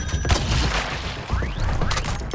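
Video game explosion: a loud, dense booming blast filling the moment, with crashing debris and a second burst toward the end.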